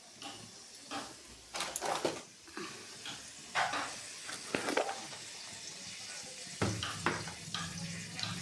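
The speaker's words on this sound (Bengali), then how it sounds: "আলু এবং বেগুনটাকে আগে ভেজে নেব।" Potatoes and eggplant fry in oil in a wok, giving quiet sizzling broken by sharp clattering stirs and scrapes at irregular intervals, with faint background noise.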